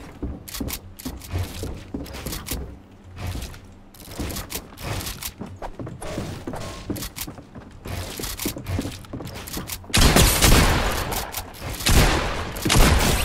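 Rapid bursts of gunfire from a first-person shooter match played on keyboard and mouse, dense overlapping shots and mechanical clatter throughout, swelling into a louder, heavier barrage near the end.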